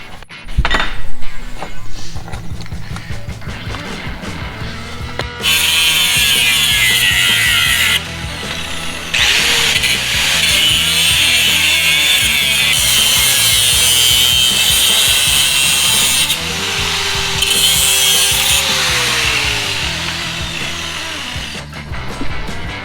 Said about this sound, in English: I'm just going to cut out some rubber that'll fit down into here